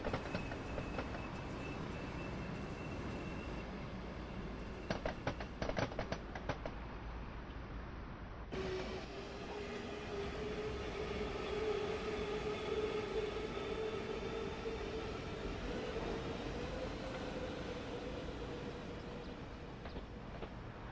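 A high-speed Southeastern train in Train Sim World 2 rumbles past, with a steady rolling drone, brief clattering bursts and a sudden shift as the passing train's sound fills in and then carries on steadily.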